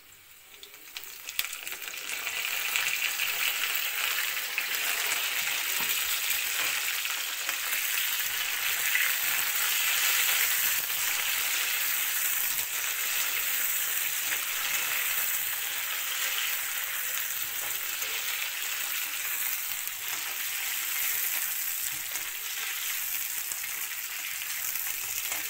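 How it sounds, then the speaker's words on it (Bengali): Fried potato with onion pieces sizzling in a pan for a fish-head muri ghonto, a steady close crackle and hiss that runs on at an even level with faint stirring clinks. "আলুটা ভাজা হয়ে গেছে, তারপর টুকরো পেঁয়াজগুলি আমি দিয়ে দেবো।"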